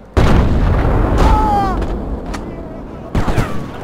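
Sniper rifle fire in the video game Sniper Elite: a loud sharp shot near the start, then lingering echo and tail, a fainter crack, and another sharp blast near the end.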